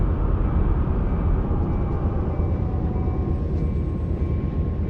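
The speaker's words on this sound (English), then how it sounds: "Another intermodal train." An intermodal freight train passes in Run8 near San Bernardino. Its loud, steady rumble of wheels and engine drones on without let-up, with faint tonal whines above.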